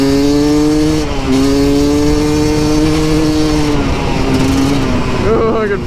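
A dirt bike engine roars loud and close, holding a steady, buzzing pitch with small shifts as the rider moves along, with no pauses in the sound.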